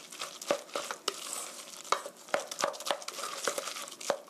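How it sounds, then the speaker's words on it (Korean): A spoon stirs flour batter for green hot pepper pancakes in a bowl, giving a dozen or so quick, irregular taps and soft scrapes close by, with no talking. "농도를 조정해야 되니까 섞어가면서 골고루 섞어주세요."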